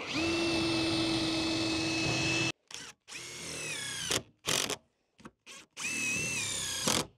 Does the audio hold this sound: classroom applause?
no